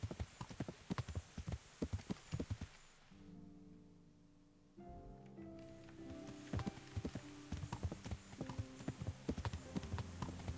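In Kingdom Come: Deliverance, a horse's hooves clip-clop in a steady rhythm, close and distinct. They pause briefly under a soft tonal background, then resume at the same pace.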